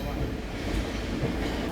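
A train rolls along rail tracks in Taiwan, a steady close rumble with a faint rhythmic clatter of wheels and no distinct voices over it.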